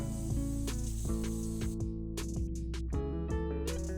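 A pressure cooker on the stove with potatoes inside whistles loudly as steam forces out in a long sustained hiss, with several sharp steam bursts through the whistle. No voices are heard.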